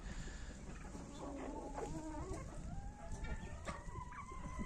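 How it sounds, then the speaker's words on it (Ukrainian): Several chickens cluck and murmur in overlapping, drawn-out calls, faint and steady over a noisy outdoor background. "Ось так курочки"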